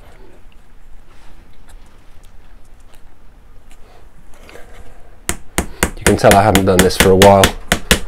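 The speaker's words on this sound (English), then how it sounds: "with a hammer and nails" Hammer blows drive nails into a wooden beehive frame, first a few soft taps under talk, then a loud rapid run of about a dozen sharp close strikes while someone speaks.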